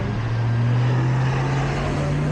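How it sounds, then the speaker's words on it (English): A big airplane passes low overhead near LAX, its propeller-and-engine drone holding steady and loud for the whole stretch beside a bike route where Lincoln meets Sepulveda, with no talk. "There's a big plane."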